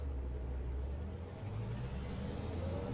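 Steady low engine drone from a truck in Euro Truck Simulator 2, the ETS2 1.30 build with the ProMods map, driving a route in Iceland. The hum stays constant and fairly loud and runs alone for the full stretch.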